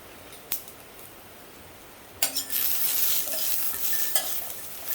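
Garlic, ginger, green chilli and cumin sautéing in oil on a low-to-medium flame: quiet at first with a single clink, then a sudden burst of sizzling that carries on with light stirring scrapes and taps.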